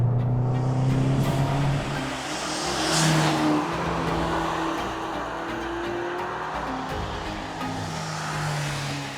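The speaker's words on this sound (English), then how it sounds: "Ferraris aren't just meant to be seen, they're also meant to be heard." A Ferrari Amalfi engine hums steadily while driving, a smooth mid-pitched drone with a gentle swell in revs partway through, heard close and alone without talk.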